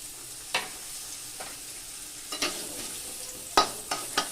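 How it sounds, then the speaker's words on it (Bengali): Thick-cut potato pieces frying in a pan: a soft, steady sizzle with a few sharp spatula clinks and scrapes scattered through it, heard alone without talk. "এবার আমি কেটে রাখা আলুগুলোকে ভেজে নেবো"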